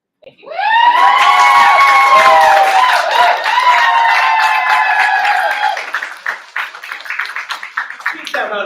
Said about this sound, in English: Keep that round of applause going for Summertime.